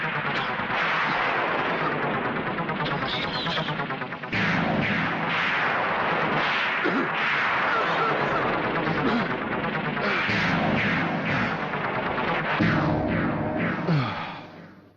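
Sustained gunfire in a Hindi film action scene: dense, loud, continuous bursts of automatic shots with blasts mixed in, running almost unbroken before cutting off at the end.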